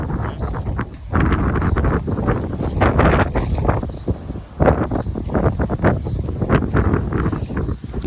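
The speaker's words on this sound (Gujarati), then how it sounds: "હવા આવતી હશે અવાજ તમને" Strong wind buffets a microphone outdoors at a scenic spot, producing continuous loud rumbling gusts that swell and dip for the whole stretch with no talking.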